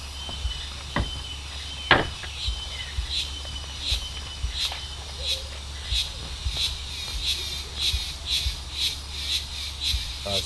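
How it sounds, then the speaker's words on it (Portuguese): Insects buzz in steady, evenly spaced pulses over a continuous high drone near a Guarani community, joined by scattered clicks and knocks and a low steady hum throughout. "As cigarras cantando aqui, que bonito."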